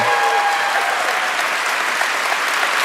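A live studio audience gives sustained applause for the show's guests, a loud, even roar of clapping with no talking.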